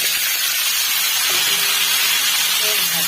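Potato and poi greens frying in hot oil in a kadai, a steady loud sizzling hiss running throughout, close up, while a person talks quietly over it.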